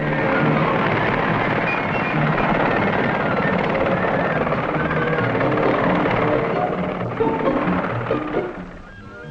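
Westland Whirlwind helicopter, a loud, steady rotor and engine drone filling the whole stretch, close and continuous before easing slightly at the end.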